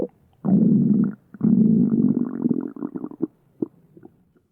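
A stomach gurgles and rumbles loudly up close in long, bubbling bursts, then trails off into a few smaller gurgles.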